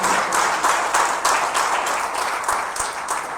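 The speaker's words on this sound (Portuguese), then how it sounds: "Se aplaude ao Rei Jesus." Congregation applauding during a Portuguese-language family church service, a dense, steady wash of clapping from many people with rhythmic bursts, no speech over it.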